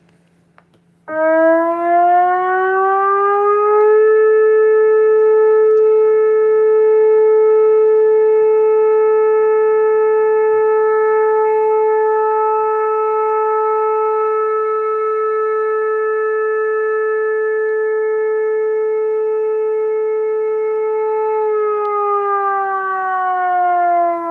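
A civil defense siren sounding a brief steady tone, rising quickly to one loud, sustained harmonic wail that holds for about twenty seconds before winding down, alone with no talk.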